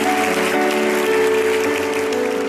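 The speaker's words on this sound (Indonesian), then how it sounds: "Berikan tepuk tangan buat Tuhan Yesus" Congregation clapping for Jesus during a church youth sermon, a steady close wash of hands over a sustained musical tone, continuous for the whole stretch.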